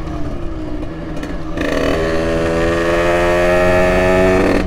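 A Yamaha DT 50cc two-stroke motorbike engine runs steadily outdoors in the wind, idling at first and then climbing to a higher, sustained buzzing pitch that holds loud and close to the end.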